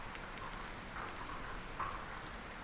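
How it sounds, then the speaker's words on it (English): Rain falls steadily as a faint, even wash of patter with no distinct drops standing out, quiet and continuous throughout. "It's raining."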